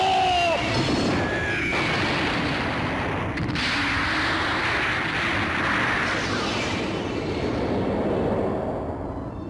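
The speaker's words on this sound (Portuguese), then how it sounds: "Regulus se aproxima do barco e dispara o seu relâmpago de plasma, destruindo o gelo." Anime plasma lightning attack fired by a Leo gold knight near a boat, shattering a very thick sheet of ice; a loud, sustained crashing roar with crackling bursts and rumbling that fills the whole stretch without pause.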